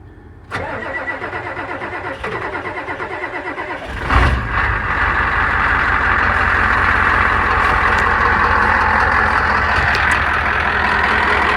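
A Ford F250 truck with a broken axle shaft cranks briefly, catches and fires up, then settles into a loud, steady, close idle that runs on without any talking.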